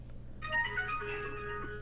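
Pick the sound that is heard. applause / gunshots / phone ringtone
phone ringtone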